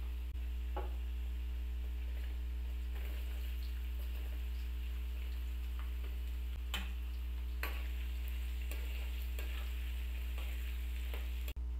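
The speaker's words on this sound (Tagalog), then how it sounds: "Naiprito na namin ang patatas at saka carrots." Potato and carrot pieces fry in hot oil for adobo with a steady, close sizzle, scattered pops and crackles and a few clinks of a utensil against the pan, with no talking.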